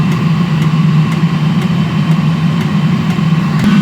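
A diesel heater burning waste oil runs with a steady, loud low droning roar and a faint regular ticking pulse.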